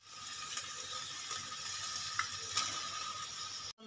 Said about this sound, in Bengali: এবারে এর মধ্যে আমি একটা ডিম ফাটিয়ে দিয়ে দেব।